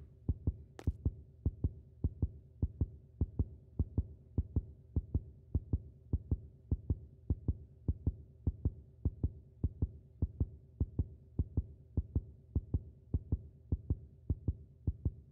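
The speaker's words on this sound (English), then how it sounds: "My heartbeat thing is really making me paranoid." A heartbeat effect in the game Neighbor Next Door thumps steadily and evenly over a low hum, a dull double-beat rhythm repeating throughout at moderate volume with no speech.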